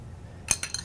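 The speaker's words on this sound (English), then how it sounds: "I got a 9/16 inch wrench back here, and let me turn that around to tighten up this top sprocket." A 9/16 inch wrench tightens a top sprocket on a StoneAge Navigator. After a quiet start come three brief, close metallic clinks.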